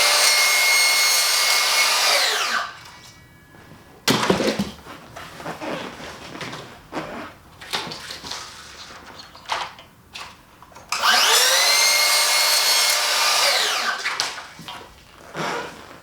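A power saw cuts mitred plastic kit sections in two long loud runs that whine down at the end, with rough scraping and rasping between them.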